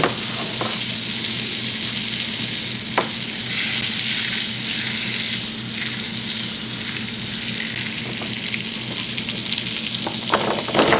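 Salted butter hisses and sizzles steadily in a warm frying pan, a loud, close, continuous crackle with occasional faint scrapes.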